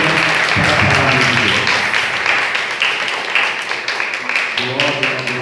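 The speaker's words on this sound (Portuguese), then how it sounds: "dá a melhor salva de palmas que você já deu na sua vida" A church congregation bursts into loud sustained applause for the word of God during a sermon, dense clapping that fills the space and tapers slightly toward the end, with a voice faintly present underneath.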